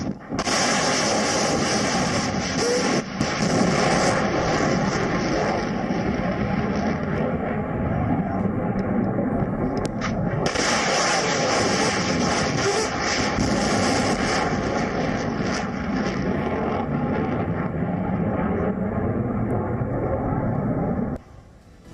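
Military aircraft roar steadily through a Russian air strike, a loud continuous engine rumble that dips briefly near the middle and persists until it cuts off at the end.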